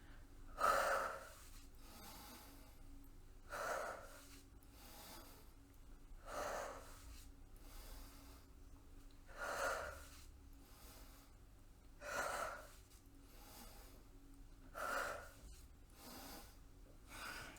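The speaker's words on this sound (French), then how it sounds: "N'hésite pas à expirer par la bouche si tu veux." Slow, steady breathing during an evening yoga session, with soft, audible exhales through the mouth about every three seconds, repeated six times, close and gentle with no talk.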